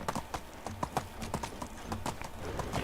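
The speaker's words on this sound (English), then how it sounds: "Get run over by a donkey." Donkey hooves clip-clop in the Medieval Dynasty video game, a steady run of hollow, evenly spaced hoof strikes close by over a constant ambient background bed.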